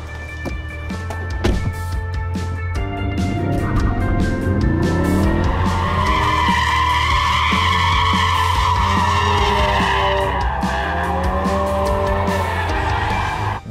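A Ford Focus RS with a 2.3-litre EcoBoost engine driven hard, its engine revving up and down as tires squeal and skid through corners, loud and continuous with no talking.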